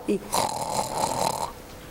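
A voice imitates heavy snoring, a short grunt followed by a drawn-out, rough, rasping snore lasting over a second, close to the microphone.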